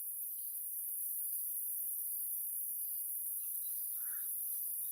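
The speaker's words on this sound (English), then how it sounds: "You hear those little frogs?" Small frogs call at night in a steady, dense chorus of high, thin chirps, continuous and fairly quiet, with one brief louder call standing out; no talking.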